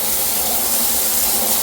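Water splashes steadily from the shower in a hotel accessible bathroom, a continuous broadband hiss of spray striking the floor, close and loud without any pause.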